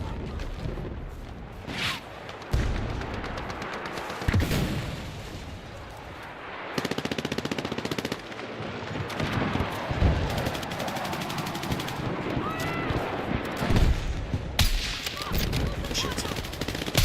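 Video game machine gun fire rattles in sustained bursts with heavy booms and explosions, loud and dense, while players talk over the action.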